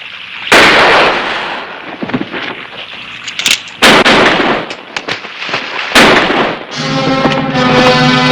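Several loud gunshots ring out in a western TV show scene, sharp bursts spaced irregularly across the passage, with faint background sound between them and a music-like tonal passage at the end.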